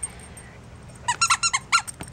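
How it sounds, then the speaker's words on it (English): Dog chewing a Pet Sport Tough Ball Squeak Ball toy, a quick burst of about six sharp, close squeaks in uneven rhythm after a short quiet stretch. "Tough Ball Squeak Ball is actually by the same company, Pet Sport"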